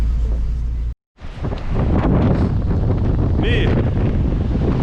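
Strong wind roaring across the microphone at a kitesurfing session on the coast at Laulasmaa, loud and constant apart from a brief dropout, with a short spoken word near the start.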